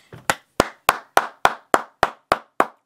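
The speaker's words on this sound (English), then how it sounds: "round of applause" One person claps about ten times in an even, steady rhythm, each clap a sharp, close, dry smack with a short decay and silence in between, and no voices.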